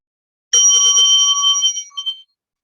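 A meditation bell is struck with a rapid flurry of light taps, then a bright, clear ringing tone that sustains and fades over about a second and a half, loud and alone in silence.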